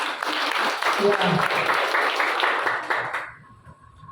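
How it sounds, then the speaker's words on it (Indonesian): Church congregation applauding during a Sunday worship service, a dense wash of clapping for about three seconds that fades out, with a brief spoken word over it. "Bisa diberikan tepuk tangan untuk Tuhan kita"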